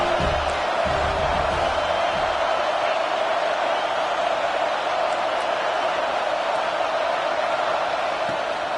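A stadium crowd roars steadily behind the home defense on a third down at a Penn State versus USC college football game, a dense, sustained wall of cheering with some low murmur near the start.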